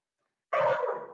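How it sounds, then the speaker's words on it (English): A puppy gives a single short bark indoors, close and fairly loud after a moment of silence. "I have a dog barking."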